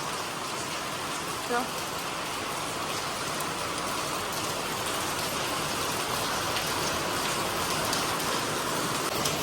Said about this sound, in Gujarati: બહુ વરસાદ વધ્યો છે